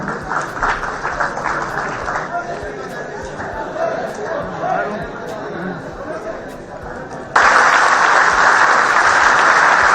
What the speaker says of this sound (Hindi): एक बार फिर से तालियां होनी चाहिए किसी के लिए।